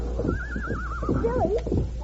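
A horse lets out a shrill, wavering whinny and squeal, up close over a steady low rumble, with faint hoof clops underneath.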